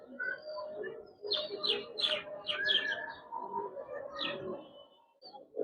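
Giribaz pigeons in a loft, soft low cooing with scattered chirps and twittering, fairly quiet and close with a light background hum.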